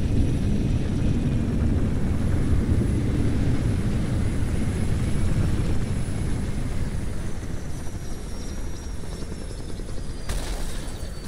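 An aircraft in the Halo Reach video game roars steadily as it lands, a loud, continuous engine drone with no break that shifts slightly near the end.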